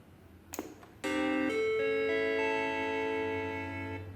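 A Macintosh IIcx computer, under repair for an intermittent power-on fault, plays a short musical tune at power-up instead of its usual startup chime: a click, then sustained bright synthesized tones holding steady for several seconds.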